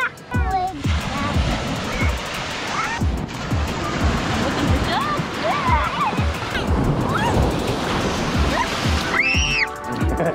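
Waves wash and break on Sandbridge Beach in Virginia Beach in a steady, close surging rush, while a child and an adult talk and shout over the surf.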